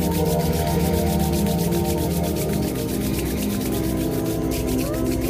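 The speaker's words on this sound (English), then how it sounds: "take the hands and rub the palms together" Palms of the hands rubbing together during a tingling meditation, a steady close swishing friction that runs continuously over a constant soft background tone.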